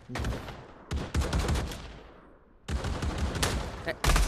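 Gunfire in the Pavlov VR shooting game, loud close bursts of rapid automatic shots in two long volleys with a short pause between, firing through a whole magazine, no talk during the shooting.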